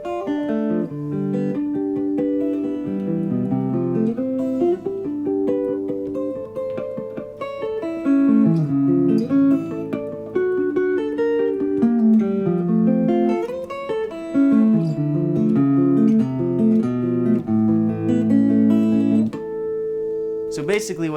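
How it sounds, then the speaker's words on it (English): Electric guitar plays sustained, harp-like melodic licks built from ringing open strings and harmonics, notes cascading and overlapping steadily and close up for about twenty seconds with no talking. "how to utilize open strings and harmonics to make your guitar sound really sustained and harp-like"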